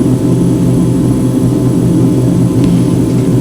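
An airplane on final approach for landing at KSEA gives off a loud, steady, close engine drone with a deep low rumble and no talking.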